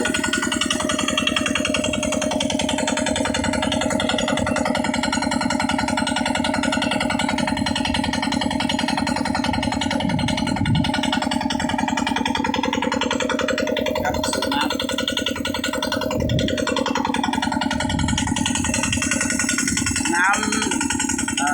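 An engine-driven water pump with a 6-inch pipe and a 4.5-inch outlet pumps water from a pond, making a loud, steady, close mechanical drone that runs unbroken throughout.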